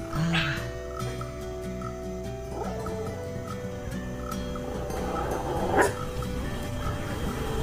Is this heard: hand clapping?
no